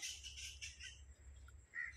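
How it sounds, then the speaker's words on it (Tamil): A crow caws a few times at a distance in a city where bats roost, with short harsh calls over a low background rumble, then one more brief call near the end. "இது காக்கா"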